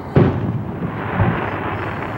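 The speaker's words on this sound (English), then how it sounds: "looking over at the fireworks" Halftime fireworks at the Holiday Bowl booming over a freeway valley, seen from a house some distance away: a sharp burst, then a second, softer thud, with low rumbling echoes between them.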